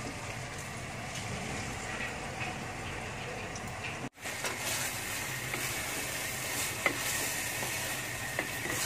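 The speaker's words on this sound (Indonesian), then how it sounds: "We saute ya. For a while." Ingredients sautéing in olive oil in a pan for tuna balado, a steady close sizzle and frying hiss with occasional scraping stirs, briefly cut out partway before resuming just as loud.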